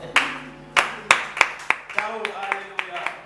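A church congregation clapping, a loose series of about a dozen sharp claps at an uneven rhythm, close and fairly loud, with a voice speaking faintly underneath.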